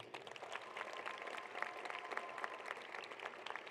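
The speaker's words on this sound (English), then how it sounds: "Please give a round of applause for our guests, which you've already done" A graduation ceremony audience at Columbus Alternative High School claps for the invited guests, a dense, steady patter of many hands heard at a moderate distance, fairly soft throughout, with no talking.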